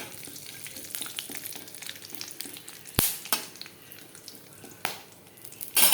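Bay leaf and whole garam masala (cinnamon, cardamom and cloves) fry in hot oil for a mutton curry, giving a steady close sizzle with a few sharp crackles and pops scattered through it.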